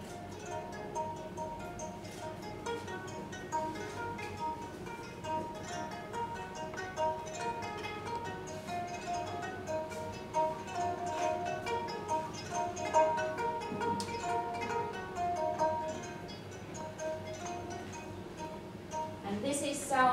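Kantele, a replica of an 1833 instrument strung with horse hair, played in sustained, buzzy, overlapping tones that ring continuously for about twenty seconds at moderate loudness.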